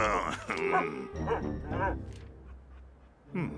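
A cartoon dog yips and barks in short bursts, close by, mixed in with people talking.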